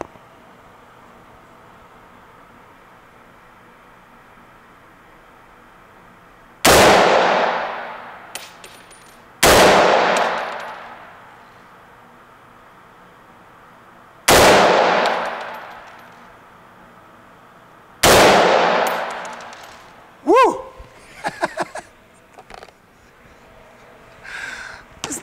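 Four loud, sharp gunshots from a Smith & Wesson M&P10 AR-style rifle in .308 calibre ring out a few seconds apart, each with a decaying echo, followed by light metallic clinks and handling noises.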